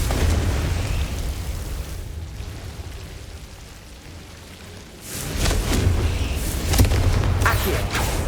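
A Confringo fire spell bursts in Hogwarts Legacy: a sudden loud blast about halfway through, followed by crackling, rumbling debris over a low ambient bed.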